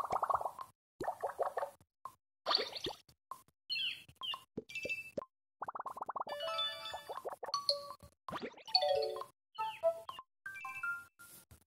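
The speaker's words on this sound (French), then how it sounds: "vous avez les sonneries que vous pouvez choisir quand vous recevez un appel" A series of short electronic chimes and ringtone jingles from a +360 D819 connected doorbell app play one after another, each a brief melodic tone pattern separated by pauses.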